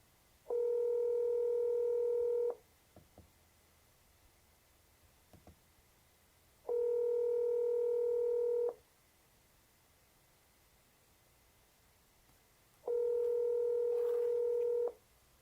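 Three long, steady electronic telephone tones sound on a phone line while a call is being placed, each lasting about two seconds with even gaps between them, clear and alone without talk.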